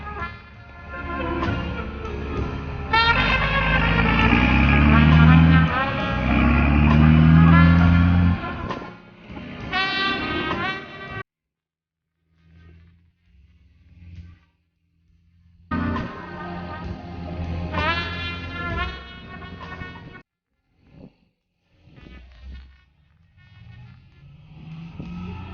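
A British Army light recce armoured vehicle drives past at a tank show, its engine roaring loudly up close, fading into quiet gaps, then rising again with throaty revving and clanking.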